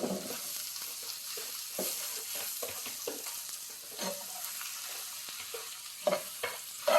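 Basmati fried rice is stirred in a hot pan with a steady sizzle, a spatula scraping and tapping in irregular strokes, close by with no talk.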